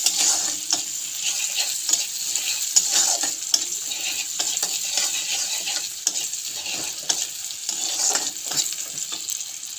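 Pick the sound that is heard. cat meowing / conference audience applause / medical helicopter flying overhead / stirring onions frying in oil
stirring onions frying in oil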